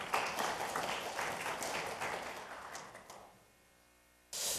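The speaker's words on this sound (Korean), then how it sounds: "박수 부탁드리겠습니다" Audience applause at a panel discussion in a Korean National Assembly forum greeting the next speaker, steady clapping for about three seconds that fades into a quiet room before a voice resumes.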